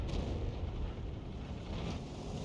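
A tank cannon fires in a tank video game, a loud, dense boom that sustains as a heavy rumbling roar across the whole short stretch, with no talk over it.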